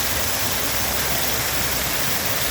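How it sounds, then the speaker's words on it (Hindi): Water tumbles from an artificial waterfall into a pond at Karachi zoo, a steady, dense hiss with no breaks. "आबशार की सूरत में पानी ऊपर से नीचे आ रहा है"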